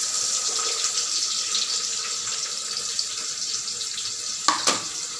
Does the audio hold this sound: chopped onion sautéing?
yes